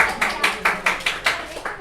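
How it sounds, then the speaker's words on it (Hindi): A small class claps for a student, about eight distinct, evenly spaced claps from a handful of hands, close by and alone with no talk over it. "तालियां हो जानी चाहिए शिवम के लिए एक बार।"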